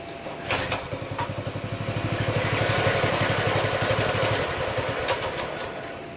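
A Baja Warrior 200cc minibike engine starts with a pulsing chug, then runs steadily close by with a rough, fast putter that rises slightly and settles.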